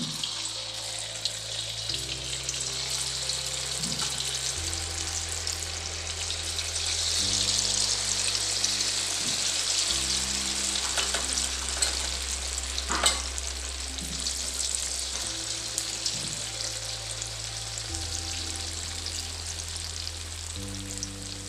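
Jackfruit manchurian pieces deep frying in oil for a second round, a constant bubbling hiss that runs for over twenty seconds under steady background music.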